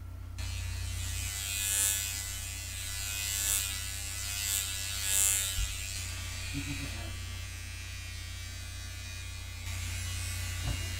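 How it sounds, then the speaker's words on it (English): Electric hair clippers cutting hair at home, a steady close buzzing drone that runs almost continuously with slight swells as the blades move, and faint voices in the background. "We're gonna cut my hair."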